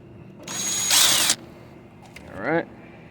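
A power drill briefly drives screws into a Chevy Malibu center console, one loud whirring burst near the start, followed by a short squeaky mechanical sound and faint background noise.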